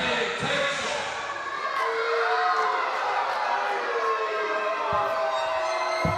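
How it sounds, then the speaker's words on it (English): A wrestling crowd at an East Coast Pro Wrestling 2018 show boos a heel, a sustained, loud wash of massed voices filling the hall, with a few sharp thuds scattered through it. "You people are out here booing me and flapping your gums"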